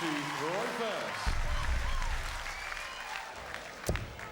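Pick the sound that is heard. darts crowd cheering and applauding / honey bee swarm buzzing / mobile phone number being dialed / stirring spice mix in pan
darts crowd cheering and applauding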